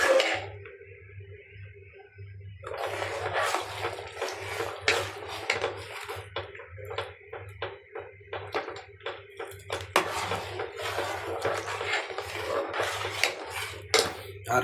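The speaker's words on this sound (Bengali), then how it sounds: "এবার ভালো নাড়তে হবে, না হলে লেগে যাবে।" Sweet oats in a cooking pot are stirred steadily, the spoon tapping and scraping against the pot in quick, irregular knocks under a low constant hum.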